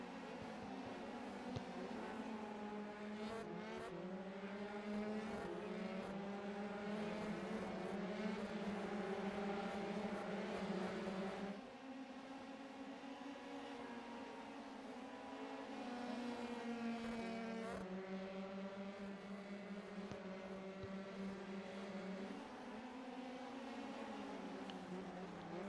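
Race cars battling for position at the San Marino Grand Prix, a continuous high engine whine that rises and falls with gear changes as several cars run close together, loud and sustained.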